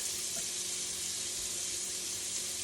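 Steady, close sizzling of deer cutlets frying in a hot pan, a continuous crackling hiss with no talking.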